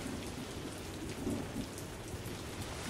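Heavy downpour drumming steadily and loudly on surfaces during a thunderstorm at 6 Mile Bend, with a low rumble of thunder mixed into the dense, continuous hiss of rain, no voices.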